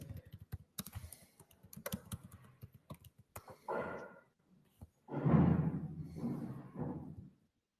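Chat message typed on a computer keyboard before a webinar: sparse, close keystroke clicks at first, then denser, louder bursts of typing with short pauses between them.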